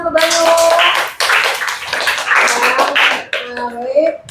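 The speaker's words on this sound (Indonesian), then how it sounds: "Kita berikan tepuk tangan untuk Banyu." Students in a classroom clap for a classmate, rhythmic clapping heard amid children's voices and chatter, fairly close and lively, with a pause before more clapping and talk.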